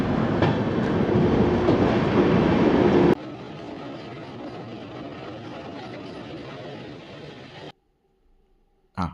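A train rumbles loudly with rhythmic clatter for a few seconds while slowly crossing a bridge over the Ghataprabha River, then drops to a quieter, steady rolling before fading to near silence.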